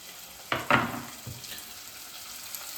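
Masala roasting in a pan for chicken biryani, with two sharp bursts of sizzling close by that quickly fade to a faint, steady hiss; no talking.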